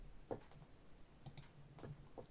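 Several soft computer mouse clicks sound in a quiet room while someone navigates World of Warcraft combat logs, faint and close, spaced irregularly with a quick double click in the middle.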